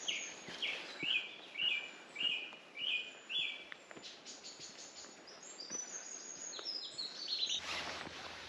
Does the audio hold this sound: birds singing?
yes